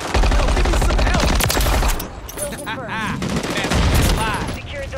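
Rapid bursts of gunfire from a Modern Warfare 3 multiplayer match on the Terminal map, loud and dense for the first two seconds, then a quieter stretch with game voice lines before another strong burst.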